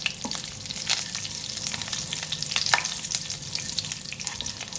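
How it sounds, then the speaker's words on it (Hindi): Cumin seeds fry in a little hot oil in a kadai, a loud, steady sizzle with sharp crackles and pops throughout, close up and with no talk. "1 टीस्पून ज़ीरा डाल रही हूँ इसमें। फ्राई करेंगे थोड़ा सा इसको।"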